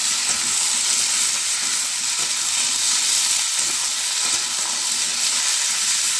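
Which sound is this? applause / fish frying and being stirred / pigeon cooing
fish frying and being stirred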